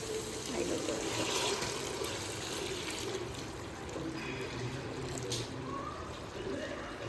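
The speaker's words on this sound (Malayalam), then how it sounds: "ഇതൊന്നിങ്ങനെ വഴഞ്ഞ് വരുമ്പോഴും കുറച്ചൊന്ന് ചൂടാക്കിയ വെള്ളം അതിലോട്ട് ഒഴിക്കാം." Warm water is poured into a cooking mixture of tomato and green chillies in a pan, giving a faint, continuous trickling and sizzling hiss that lasts throughout.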